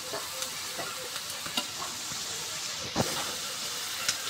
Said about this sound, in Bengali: এটা করলা আছে, কাঁকুল আছে, পটল আছে, আলু আছে, দিয়ে একটা ভাজি।